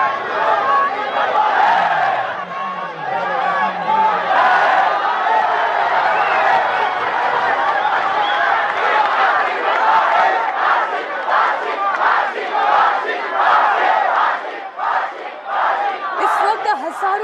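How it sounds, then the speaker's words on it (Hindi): A crowd of thousands protesting on the Badlapur railway track shouts and chants together, a loud continuous roar of many voices with rhythmic bursts of slogans toward the end. "हजारों की संख्या में ये भीड़ बदलापुर रेलवे ट्रैक पर प्रोटेस्ट कर रही है"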